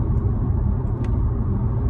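Low, steady rumble of a car in motion heard from inside the cabin, a constant road and engine drone with no speech.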